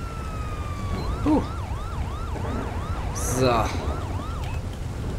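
Wailing police car siren from the video game GTA 5, a steady repeating up-and-down wail running through the whole stretch, loud and close, with a few brief spoken interjections over it.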